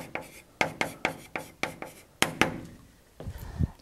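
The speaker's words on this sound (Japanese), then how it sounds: "ちょっと書くね。" Marker or chalk strokes on a board during a Japanese teacher's English grammar lesson: about nine quick, sharp scratchy strokes in an uneven rhythm, close and fairly quiet, ending in a few soft knocks. No speech.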